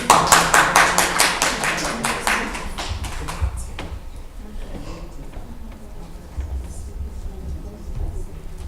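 About a dozen distinct, evenly spaced claps from an audience at an open-microphone church testimony session, loud at first, then tapering into quieter scattered claps with faint room murmur.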